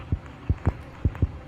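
Heartbeat sound effect in the horror video game Granny 3, heard as five low, thudding beats in an uneven double-pulse rhythm, loud and close with no voices over it.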